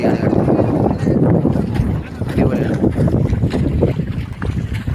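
A boat moves on the backwater near a bridge at Munroe Island, a broad, steady rumble of engine and water mixed with heavy wind buffeting the microphone.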